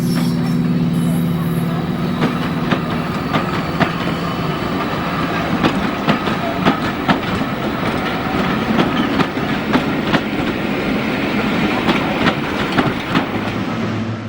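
A Class 55 Deltic diesel locomotive rolls through Doncaster station, its engine droning steadily under a continuous clickety-clack of wheels over rail joints, fairly close and loud throughout.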